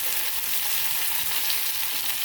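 Onion and tomatoes frying in a pan give a steady, dense sizzle with a constant crackle, close and loud throughout, with no talking.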